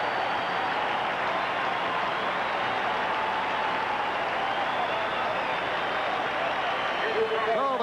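A large stadium crowd at the 1987 National League Championship Series, Giants vs Cardinals, roars and cheers steadily for the St. Louis Cardinals, a broad distant wash of noise that holds throughout.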